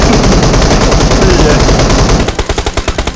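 Rapid automatic gunfire in PUBG Mobile, fired while driving after a car and shooting out its tires. A dense, loud, continuous burst breaks into distinct rhythmic shots near the end.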